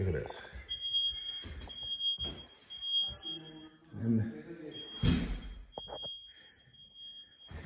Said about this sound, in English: it's got an alarm system as well